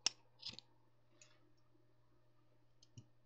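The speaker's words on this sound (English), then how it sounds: "snip this off here." Sharp full-tang scissors snip off a piece of material in a quiet room, giving a few soft, close clicks, one near the start and a couple more spread through the clip, with a faint steady hum underneath.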